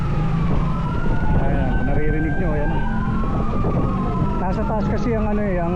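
Fire truck sirens wail nearby at a building fire in Pasig, several overlapping tones rising and falling continuously under a constant roar of traffic and crowd, with a few brief horn-like blasts near the end.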